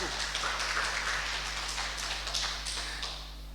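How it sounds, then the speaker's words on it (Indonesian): A church congregation clapping, a soft, fairly distant patter of hands at low level over a steady electrical hum, fading slightly near the end. "Tepuk tangan bagi Tuhan."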